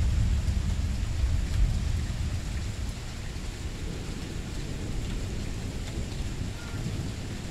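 Night thunderstorm with steady heavy rain and low rumbling thunder rolling throughout, loud and continuous with no talking.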